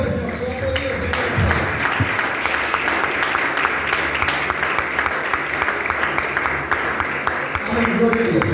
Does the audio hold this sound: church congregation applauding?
yes